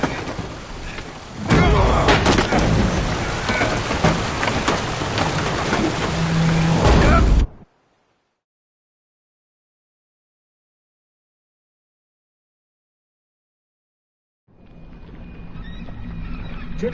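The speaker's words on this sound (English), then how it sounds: "Didn't bargain for no storm." Storm at sea aboard a ship in The Witcher 3: Hearts of Stone, a loud, dense roar of wind and crashing water with thuds that cuts off abruptly into silence before the storm noise returns more faintly.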